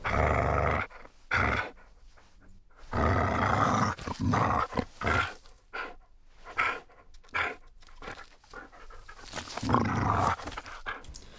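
A dog growls and snarls close to the microphone, recorded as source material for creature sounds in the game Hytale; rough bursts with panting breaths between them, alone without talk.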